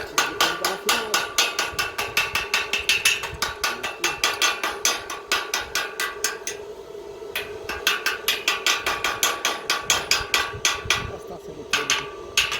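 A hammer strikes in quick, even taps during a repair job, a sharp metallic knock repeating several times a second with a couple of short pauses, close and prominent.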